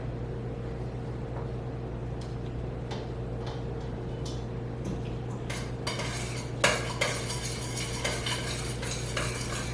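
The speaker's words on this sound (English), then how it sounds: "I'm gonna take the medium cheddar and the Velveeta and stir that through." Macaroni in a pot is stirred with medium cheddar and Velveeta, the utensil scraping and clinking against the metal sides at a quiet, steady pace, with sharper clanks building in the second half over a faint constant hum.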